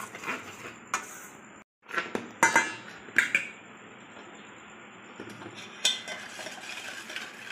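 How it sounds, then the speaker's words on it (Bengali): Sifted dry cake ingredients for a chocolate cake, flour with baking powder, being mixed in a bowl, heard as a close, soft scraping and stirring with a few sharp clinks of the utensil against the bowl. "সব শুকনো জিনিসগুলোকে একটু মিশিয়ে নেব"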